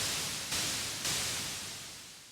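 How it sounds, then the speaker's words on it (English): A synthesizer's white noise source, set up as the basis of a snare drum, hisses steadily and broadband, with small level steps and a slow fade. "So initially we want a noise source, so let's do white noise."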